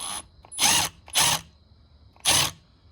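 Three short, sharp whirring bursts from a power driver loosening a part during installation of a VMP twin 67mm throttle body, each lasting about a third of a second with quiet gaps between.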